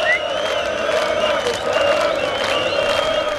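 A huge crowd of protesters chanting and cheering in unison outdoors, loud and sustained, with whistles and clapping mixed into a continuous roar of voices.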